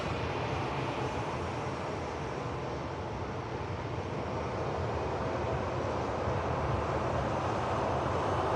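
An Airbus A321neo airliner sits lined up for departure at Manchester Airport, its engines giving a steady, broad roar that holds at an even level throughout, with no talk over it.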